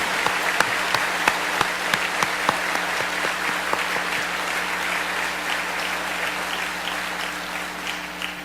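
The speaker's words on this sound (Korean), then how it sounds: "우리 격려의 박수 올려드리겠습니다" A church congregation applauding steadily during a service, dense clapping that holds for several seconds and slowly thins out toward the end.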